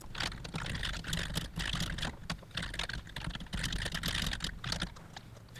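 Steady, close typing on a computer keyboard, a fast continuous patter of key clicks with small pauses, as an exercise is written out for a Python programming lesson.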